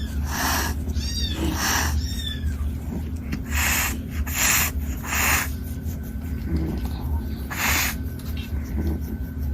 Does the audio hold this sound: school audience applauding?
no